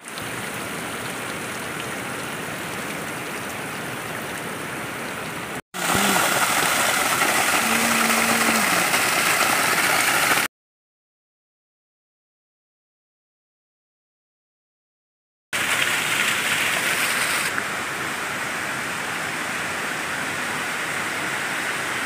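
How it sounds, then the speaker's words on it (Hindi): A mountain waterfall roars as a constant broad rush of falling water, heard loud and steady with a sudden dead-silent break in the middle before the roar returns. "ये देखिए जो झरने हैं, जिनको छोड़ा कहते हैं पहाड़ों में"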